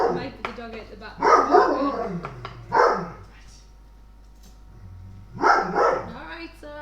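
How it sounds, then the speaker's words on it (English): A pet dog at home barks in a few short bursts, fairly close, with people talking around it. "He barks at everything."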